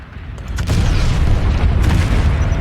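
Prowler tank cannon in Planetside 2 firing, a heavy booming blast that rolls into a sustained low rumble, loud and close.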